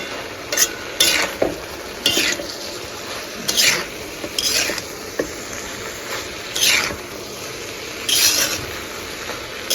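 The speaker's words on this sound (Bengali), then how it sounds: "ভালো করে নাড়াচাড়া করে নিতে হবে" Vegetables and spice paste stirred in a frying pan, a spatula scraping in repeated strokes every second or so over a steady soft sizzle, close and fairly loud with no talking.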